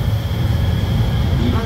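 The Sunrise Izumo sleeper express rumbles into platform 2 at a Japanese station with a steady low roar of rail noise and a faint high whine, while a Japanese station announcement plays over it.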